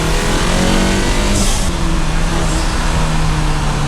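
A 2019 Volkswagen Golf GTI Mark 7.5 with an IS38 turbocharger, making about 400 horsepower, roars loudly and continuously up close at high revs with no voices.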